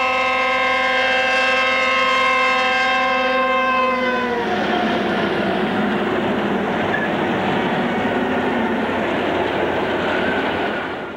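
An Illinois Central northbound freight train passes close by, its horn blaring a loud sustained chord for several seconds before giving way to the heavy rumble and clatter of rolling cars, fading at the end.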